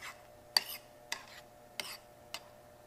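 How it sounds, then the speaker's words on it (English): Vegetables seasoned with kosher salt are stirred and folded in a few separate scraping strokes, four soft brushing sweeps spaced about half a second apart, close and quiet. "Kind of stirring and folding."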